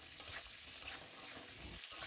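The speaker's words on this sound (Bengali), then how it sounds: "আলুটা সেদ্ধ করে নিয়েছি, ওইটা ওই তেলে ছেড়ে দিয়ে ভালো করে হলুদ আর সামান্য নুন দিয়ে" Boiled potatoes fry in oil with turmeric and salt, a soft, steady sizzle with light stirring scrapes, fairly quiet and with no talking.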